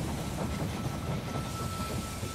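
A train pulling into a station in the strategy game They Are Billions, a steady rumbling, hissing roll with faint rhythmic clatter, continuous and fairly loud with no voices.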